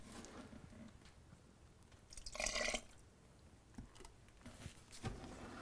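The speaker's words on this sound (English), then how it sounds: "we're going to go ahead and pour this in carefully, trying not to create a lot of turbulence" Hot melted wax at about 280 degrees poured slowly and carefully, soft quiet trickles and drips with one brief louder gurgling splash midway and no voices.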